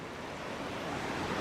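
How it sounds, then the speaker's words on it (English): A small waterfall cascade on the French River in Minnesota gives a steady, full rushing wash of falling water, continuous and fairly close, with some wind on the microphone. "You got a little waterfall over here, real small."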